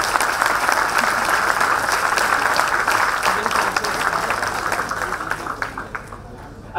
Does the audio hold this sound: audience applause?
yes